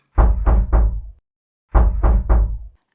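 Two quick sets of triple knocks land on a door, loud and close, separated by a short silence.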